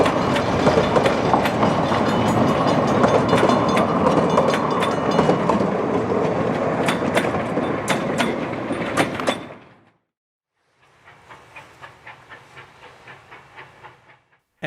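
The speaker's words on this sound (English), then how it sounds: "the train makes its way upgrade and around the loop" Former Alaska Railroad 152, a narrow gauge steam locomotive, climbs upgrade around a turning loop with a loud, steady rolling rumble and rhythmic clicks. The sound cuts off abruptly, then returns fainter and more distant.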